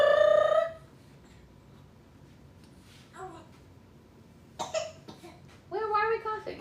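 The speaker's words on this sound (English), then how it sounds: "Why are we coughing?" Several short, separate coughs come in a quiet room, one loud burst first and then smaller ones, mixed with a child's babbling.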